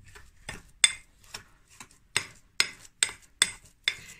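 A spoon stirring sugar into cottage cheese in a bowl makes about ten sharp clinks against the bowl in an uneven rhythm, close and clear, each with a soft scraping tail and no talk over it.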